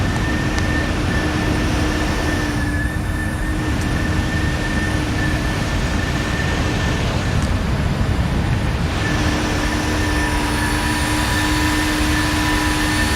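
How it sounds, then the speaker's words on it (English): Boeing 737-800 jet engines in a flight simulator game cruise with a steady, loud broadband roar and faint tonal whine, unbroken throughout with no talking. "Lovely looking plane, this. The 737."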